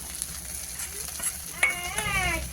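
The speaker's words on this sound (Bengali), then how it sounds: "এবার মাছ ভাজা তো হয়ে এসছে" Fish frying in a pan for a home-cooked meal gives a quiet, steady sizzle, with a brief whining, bleat-like tonal sound rising over it near the end.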